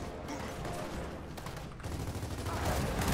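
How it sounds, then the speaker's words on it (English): Hammerburst burst rifle fire in the video game Gears of War 4, a dense run of rapid gunshots and combat noise that grows louder and busier toward the end, with no talk over it. "It's a burst gun."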